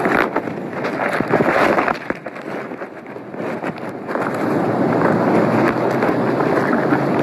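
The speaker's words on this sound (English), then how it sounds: "Oh, there's that wind." Strong wind blows steadily outdoors and buffets the microphone in a continuous broadband roar, easing briefly near the middle and then rising back to full strength.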